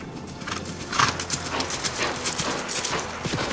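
A horse ridden at speed, its hooves drumming in a steady clip-clop rhythm with a whinny rising over the noisy, bustling scene; no talking.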